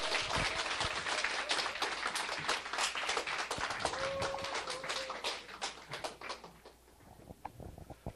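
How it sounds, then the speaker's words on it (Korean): A conference audience bursts into dense, close applause that holds strong for several seconds, then thins out and fades toward the end. "큰 박수로 모시겠습니다."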